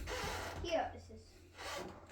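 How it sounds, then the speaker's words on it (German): Old wooden floorboards in a toy museum creak and groan underfoot in slow, drawn-out rubbing strains, close by, with faint voices around. "das ist das Holz, was arbeitet, wenn du drüber läufst"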